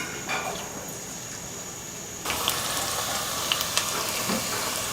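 Chopped onions drop into hot soybean oil for a chicken curry, and a faint hiss jumps to a steady, louder sizzle halfway through, with a few small pops and no voices.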